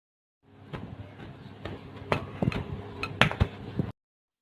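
A spoon beats Nescafe coffee, sugar and water into a thick froth for dalgona coffee, making close, irregular clinks and scrapes against the cup for about three and a half seconds, with no talking.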